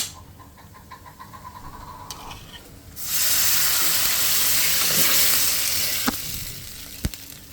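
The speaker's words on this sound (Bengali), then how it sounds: "পেঁয়াজটাকে ভেজে নিলাম এখন এই সিদ্ধ করা চিকেনটা ঢেলে দিব" Boiled chicken is poured into a pan of fried onions and breaks into a loud, steady sizzle. Softer kitchen noise comes first, and a couple of sharp knocks follow near the end.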